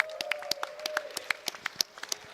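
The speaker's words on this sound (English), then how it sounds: "One more round of applause for Sav" Audience applause at a Quakecon DOOM exhibition tournament, heard as a series of sharp, irregular claps at moderate distance rather than a dense roar, with a steady faint tone running beneath.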